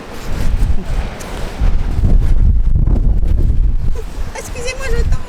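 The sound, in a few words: strong storm wind on Trestraou beach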